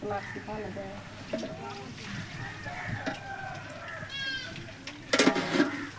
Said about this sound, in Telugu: ఇది మేక